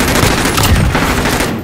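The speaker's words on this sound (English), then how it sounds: "He's shooting." Dense rapid gunfire in a shooter video game, a loud continuous burst of overlapping shots filling the whole moment, close and harsh, with no talk over it.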